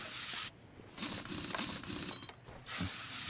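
Stuck lug nuts being removed from a car wheel in Car Mechanic Simulator 2021, with bursts of hissing spray and mechanical ratcheting, close and steady, broken by brief quiet gaps.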